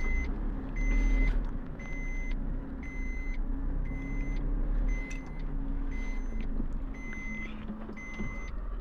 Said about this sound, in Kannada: I will put this in reverse gear